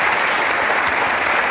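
A studio audience applauds a singer, dense, loud, continuous applause filling the space evenly throughout without any gap.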